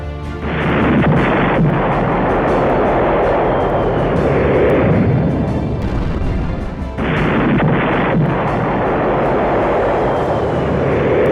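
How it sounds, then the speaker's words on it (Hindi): Ukrainian drones drop bombs on target after target near Horivka in the Russia-Ukraine war. The sound is a loud, continuous roar with heavy rumbling blasts that dips briefly near the middle, and no voices are heard. "ड्रोन से एक के बाद एक टारगेट पर बम से हमला कर रही है।"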